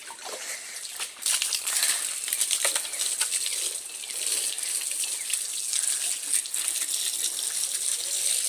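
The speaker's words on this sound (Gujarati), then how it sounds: "ગાડી અહીં લઈ લીધી ને પાણી છાંટવાની શરૂઆત કરી દઈએ" A hose sprays water over a dusty car outdoors: a continuous close gush and splatter that varies in strength as the stream moves across the body panels.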